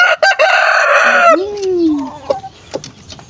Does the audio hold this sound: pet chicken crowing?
yes